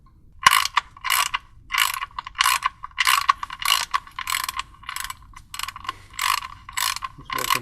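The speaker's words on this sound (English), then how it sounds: "you would not need to use a ratchet to tighten the drain plug in to thread it down" A ratchet tightens the oil drain plug on a 1.8T MK4 Jetta, about a dozen crisp clicking pawl bursts in a steady back-and-forth rhythm, loud and close with no talking.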